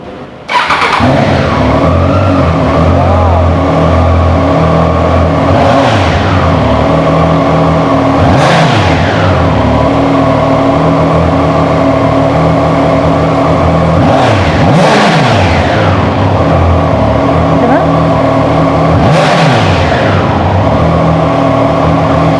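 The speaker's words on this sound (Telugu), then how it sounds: "ఫస్ట్ మనము ట్రైడెంట్ 660కి సంబంధించి ఎగ్జాస్ట్ విందాము" A 2021 Triumph Trident 660 motorcycle idles loudly up close, its exhaust rumbling steadily, then revs sharply four times at spaced intervals, each rise climbing and falling back to idle.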